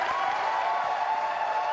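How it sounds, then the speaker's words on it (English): A large bowling crowd in Tacoma cheers and applauds Norm Duke's perfect 300 game in the semifinals, a dense, sustained roar of clapping and shouting from a distance, steady throughout. "Sends this huge crowd in Tacoma into a frenzy"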